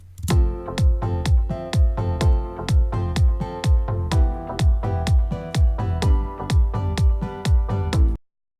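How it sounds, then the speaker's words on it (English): An electronic bootleg remix plays alone, a steady four-on-the-floor kick with bass, short synth stabs and sustained chords pulsing evenly for several bars before stopping abruptly. "Let's hear it with kick, bass and the stabs, and also let's put the chords on."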